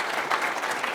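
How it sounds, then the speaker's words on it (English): An audience at a closing keynote session applauds the keynote speakers, a dense, steady wash of many hands clapping at once, loud and continuous throughout with no voices on top. "Let's give a big round of applause for our keynote peoples."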